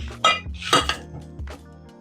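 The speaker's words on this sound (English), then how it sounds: "let's chop this bad boy open and see how we did on picking an onion" A knife chops open a yellow Vidalia onion on a board, with a few sharp, close knocks and clinks, separated by short quiet gaps and heard alone without talk.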